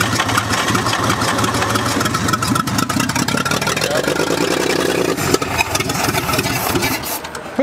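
An old, previously locked-up truck engine rescued from the woods runs loudly and steadily at close range, a rough continuous mechanical drone with slight irregular fluctuations throughout.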